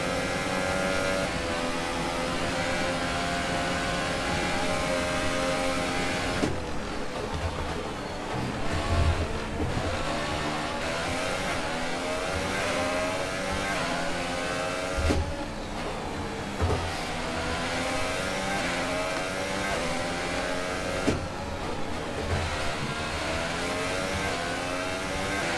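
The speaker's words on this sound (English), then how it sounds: "I feel like this engine was gonna go any minute." A Formula 1 racing car engine in F1 2018 at the Italian Grand Prix screams continuously through gear changes, with sharp drops and rising revs recurring every few seconds, loud and alone without talk.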